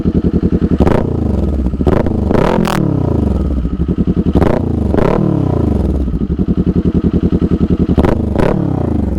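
A loud 400cc motorcycle engine revs repeatedly up close, each blip climbing sharply then dropping back to a lumpy, popping idle in a rhythmic series of throttle bursts.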